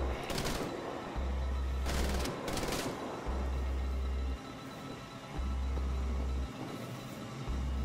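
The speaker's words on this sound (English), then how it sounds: "And I can't spin it around while it's on the turret." Mounted turret gunfire in the video game Wolfenstein: The Old Blood, with rapid bursts of automatic fire separated by brief pauses over a low rumbling game background.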